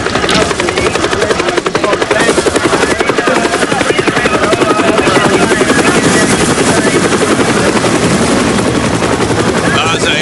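A loud, steady rescue helicopter roar with rapid rotor chop fills the whole stretch, dense and close, with a voice faintly mixed in beneath it.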